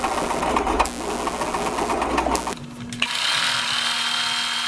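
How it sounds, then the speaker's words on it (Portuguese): Sewing machine stitching elastic onto a sleeve edge, a steady close whirring run that halts briefly near the middle, then restarts at a smoother, even pace. "vou começar a costurar esticando cada quarto"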